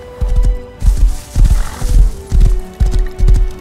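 Horse in the Rust video game, loud clip-clopping hooves in repeated rhythmic bursts under a sustained neighing tone, close up.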